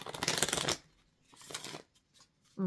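Tarot cards are riffled in two quick bursts of fluttering shuffling, close and fairly loud, separated by short pauses.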